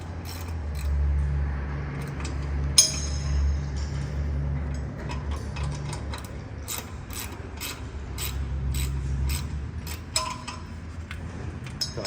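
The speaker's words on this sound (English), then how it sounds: "tighten them down until they're all snug." A wrench snugs down bolts in a cross pattern on a substation transformer conservator, with quiet, repeated ratchet clicks and small metallic ticks over a low background hum.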